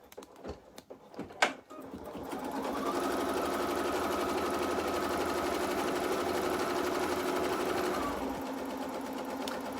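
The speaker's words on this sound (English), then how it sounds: "So I'm going to go ahead and stitch out that placement line right now." An embroidery machine stitches a placement line onto stabilizer with white thread, a steady mechanical needle chatter running for several seconds after a few brief knocks, close and fairly loud with no talk.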